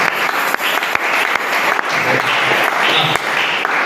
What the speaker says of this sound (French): Est-ce qu'on peut acclamer pour Dieu?